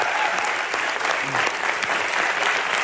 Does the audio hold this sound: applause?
yes